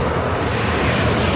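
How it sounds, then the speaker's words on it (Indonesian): A large jet airliner passes low overhead near a flight path outside Paris, a loud, steady, close roar of engine noise filling the whole moment with no talking. "Wow, pesawat di atas aku dong."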